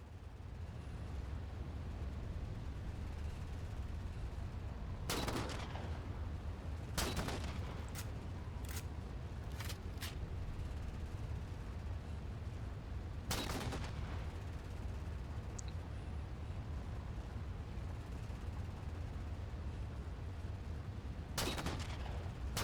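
Several single sniper rifle shots in Halo 4, spaced seconds apart and sharp against a steady low rumble of battlefield ambience.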